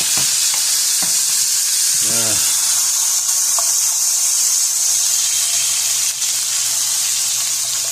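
Beef and potatoes fry over a high flame in a pan with a steady, loud hiss and crackle of splattering oil throughout, while a voice briefly cuts in.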